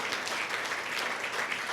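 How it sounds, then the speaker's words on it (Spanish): Church congregation applauding together, a dense, even wash of clapping at a distance, faint and steady throughout. "Dele fuerte aplauso a Jesucristo."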